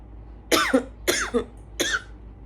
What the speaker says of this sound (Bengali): আমার খুব কাশি হচ্ছে